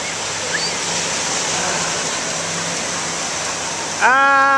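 Ocean surf rolls onto a San Diego beach as a steady, broad, hissing wash with no clear breaks between waves. A voice cries out briefly at the very end.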